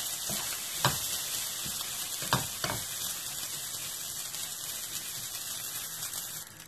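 Rice and vermicelli frying in a pan for a chicken rice dish, stirred steadily: a continuous close sizzle with a few sharp scrapes of the spoon against the pan.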